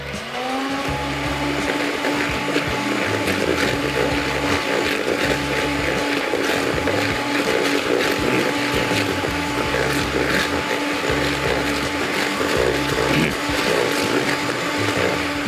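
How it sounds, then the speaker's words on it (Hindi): Electric hand mixer beating butter and sugar for a mango loaf cake, a steady whirring motor drone with a repeating rhythmic churn as the beaters work through the mixture, loud and close throughout. "उससे पहले हमने इसको थोड़ा सा बीट करना है मक्खन और चीनी को"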